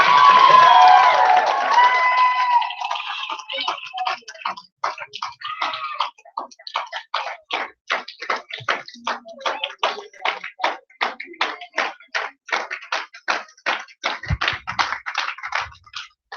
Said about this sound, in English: I want everyone just to start clapping your hands